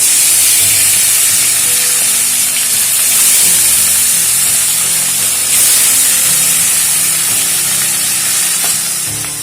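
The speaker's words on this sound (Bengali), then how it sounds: "এবারে মাছগুলো একে একে ভেজে নেব।" Salted, turmeric-rubbed fish pieces frying in hot mustard oil, a loud steady close-up sizzle and spitting hiss that continues unbroken with no talking.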